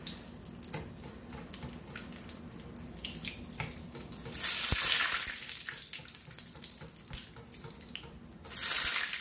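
Water runs from a kitchen tap in two short bursts, hissing loudly, with quieter clinks and handling sounds in between.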